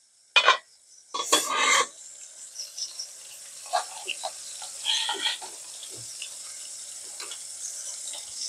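Sliced okra tossed into potatoes frying in a pan, bringing a sudden sharp sizzle and clatter, then softer scraping and stirring with scattered faint hisses and clinks as the cooking continues.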